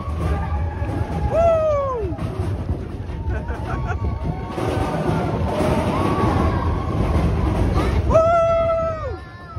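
A theme park train pulls into a station at Magic Kingdom, its steam whistle sounding twice with a rumbling approach underneath, while people talk nearby.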